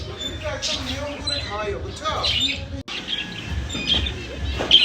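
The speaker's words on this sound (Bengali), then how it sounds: "এটা ফুপির পাখি।" A pet bird gives short, high chirps mixed into steady conversation in a busy household, with the calls partly masked by the voices.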